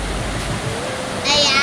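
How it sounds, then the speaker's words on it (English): Constant roaring rush of the Horseshoe waterfall at Niagara Falls, heard as a broad steady wash of water with voices underneath. "Look at the Canadian Horseshoe. It's the largest waterfall of all."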